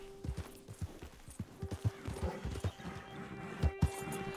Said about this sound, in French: Mon cheval est coincé.